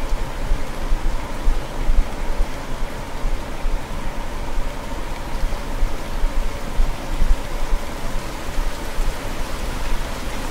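Rain falls in the fishing game Russian Fishing 4 as a steady, dense hiss of drops with gentle fluctuations. No talk is heard.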